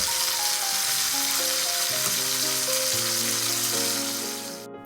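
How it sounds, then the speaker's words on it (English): Chicken frying in a pan gives a loud, steady sizzle close up, an even crackling hiss that runs throughout and eases slightly at the end. "Listen to this sound of sizzling chicken."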